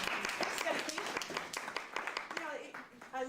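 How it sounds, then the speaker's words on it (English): Small audience at a martial arts school giving a brief round of applause for a visitor, moderate clapping mixed with voices and speech close by. "Let's give her a little round of applause."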